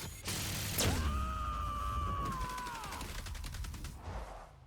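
Gunfire from the sci-fi video game The Outer Worlds: a close, dense burst of shots with mechanical clatter, under a continuous game soundscape with a sweeping electronic tone and rapid clicking toward the end.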